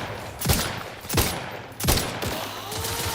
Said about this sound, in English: Take a good position and start shooting.